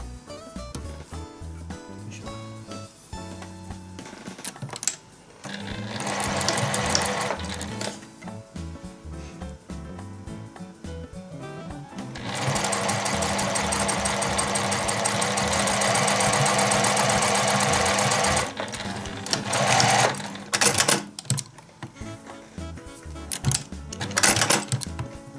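Sewing machine stitching the side seams of a small dog garment, its motor whirring in two long sustained runs with brief stops and mechanical clatter between them, close and fairly loud.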